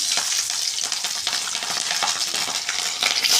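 Mustard seeds and cumin fry in hot oil with a loud, dense crackle of rapid pops and spits over a continuous hiss, close by and without any voices.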